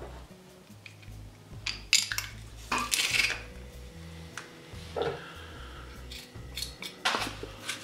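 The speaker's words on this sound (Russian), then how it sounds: "выдавим 2 зубчика чеснока" Metal utensils clink and scrape against a bowl in short, irregular bursts, with sharp clicks and a squeeze or two as garlic cloves are pressed into grated Parmesan, no talking.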